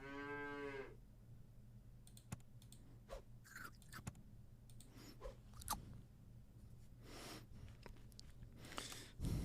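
A cartoon cow in the video game Super Auto Pets gives a short, clear moo at the very start, followed by a stretch of soft clicks, crunchy chewing-like effects and light interface sounds without any voices.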